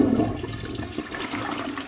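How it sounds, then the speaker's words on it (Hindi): A toilet flushes in a house bathroom, heard as a continuous rushing, gurgling stream of water that stays fairly steady throughout, with no voices. "फ्लश की आवाज सुनकर रितेश का ध्यान बाथरूम के दरवाजे पर गया।"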